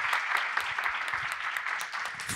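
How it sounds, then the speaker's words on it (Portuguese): An indoor conference audience claps for panel speakers at a business event, a steady, even burst of many hands at a moderate distance, without speech over it. "Uma salva de palmas para eles"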